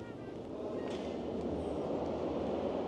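A Berlin metro train running, a steady low rumble and roar inside the carriage with faint rattles and squeals, close and continuous, no talking.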